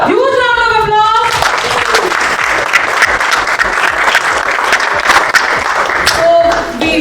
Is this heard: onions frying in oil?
no